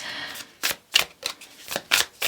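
Tarot and oracle cards being shuffled by hand, six or so crisp riffling bursts in an uneven rhythm, close and clear with short pauses between.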